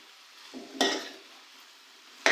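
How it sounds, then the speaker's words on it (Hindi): Potatoes tipped into hot frying masala for an aloo gobi salan and stirred, a sudden sizzling rush followed by scraping and clatter of a spoon against the pan, close and fairly loud. "और इसी के साथ अब हम ऐड कर देंगे आलू।"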